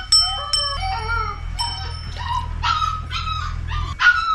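A dog whimpers and yips in high, wavering cries while being washed with tick medicine mixed in water, several close whines in succession over a low hum, with no talk.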